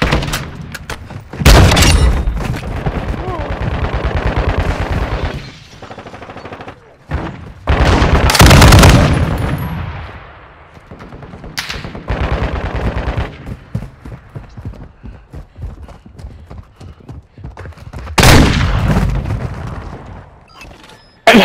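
Heavy gunfire in Call of Duty: Modern Warfare II, with loud bursts of automatic fire and booming shots in several clusters, broken by quieter gaps and a few short voice interjections.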